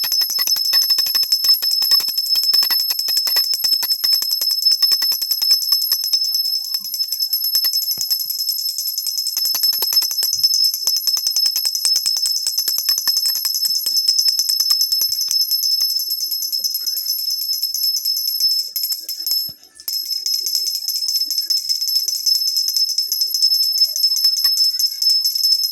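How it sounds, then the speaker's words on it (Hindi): Brass puja hand bell topped with a Garuda figure, rung continuously during aarti before Laddu Gopal, a bright, shimmering metallic ringing that holds steady for the whole stretch and breaks off only briefly near the end. "ये घंटी है, ये देखिए, इसमें गरुड़ बना हुआ है"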